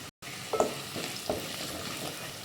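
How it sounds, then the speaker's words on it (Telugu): Turmeric frying with onions and green chillies in a pan makes a constant sizzle with a couple of brief stirring scrapes, steady and close, with no one talking. "పసుపు కూడా మంచిగా ఫ్రై అయ్యింది"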